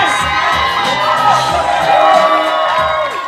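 A hypnotist show audience cheers, whoops and shouts together in a loud, dense roar of voices that stays steady throughout, with individual shouts rising out of the crowd.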